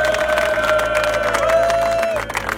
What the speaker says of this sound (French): J'aimerais vraiment qu'on les applaudisse pour leur performance sur ce week-end.